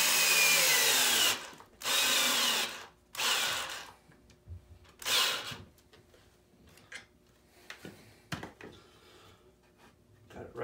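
Power drill driving through wood while a greenwood carving bench is assembled, in several loud bursts of a second or so with pauses, then quieter clicks and handling noises.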